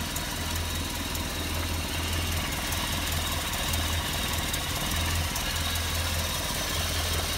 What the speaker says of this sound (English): let me know what you think with regards to the tick over, whether you think that's too high